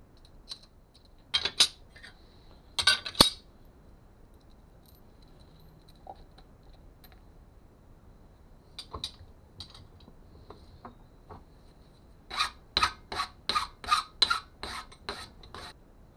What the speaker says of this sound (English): Just deburr the hole.